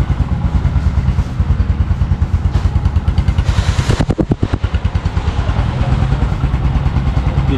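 A 2024 Kawasaki CT125 Bajaj motorcycle engine idles close by, a steady low rumble with a faint ticking pulse and a brief burst of heavier mechanical chatter partway through, with no talk over it.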